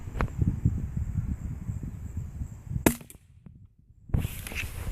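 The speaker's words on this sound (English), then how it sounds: "I just want to show you how quiet these CB long caps were out of a rifle like this" A .22 rifle firing CCI CB Long cap rounds outdoors, heard as one sharp, fairly quiet crack, then a short silence, over a constant background of insects and rustling.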